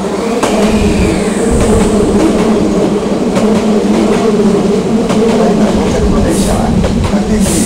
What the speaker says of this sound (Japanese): 電車が到着します。